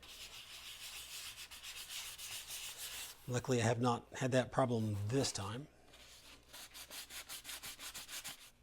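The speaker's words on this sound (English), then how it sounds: "giving it that little light sanding can really help you find some trouble spots" Soft, rapid hand sanding strokes rasp steadily on a Boba Fett helmet, pausing while a person speaks in the middle, then resuming with a brisk rubbing rhythm.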